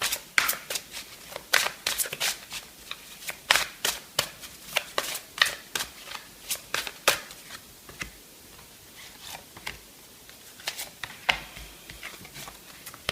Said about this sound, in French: je vais faire le petit message de fin avec les cartes de l'archange Michael